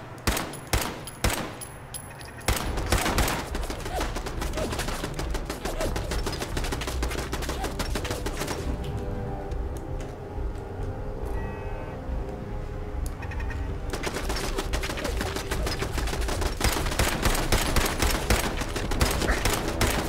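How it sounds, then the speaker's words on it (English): Heavy machine gun turret in Fallout 4 fires rapid bursts, with sharp repeated shots at the start, then sustained dense gunfire with a brief lull midway, loud and without talk. "Fuck you, heavy machine gun turret."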